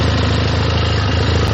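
A Benelli TRK 502 twin-cylinder adventure tourer motorcycle idles close by with a steady, throbbing low rumble and an even pulse, and no voices are heard.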